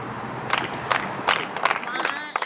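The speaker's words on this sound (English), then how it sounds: "There were the slow and steady claps, Daryl Howard's signal of freedom." A crowd claps slowly and steadily to celebrate Daryl Howard's freedom after his December 1992 arrest, with about five sharp, evenly spaced claps over murmuring voices.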